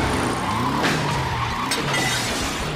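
A car is driven recklessly in a scene from the TV show Smallville. Its tires skid and squeal loudly against a roaring engine and tonal background music for the whole short stretch.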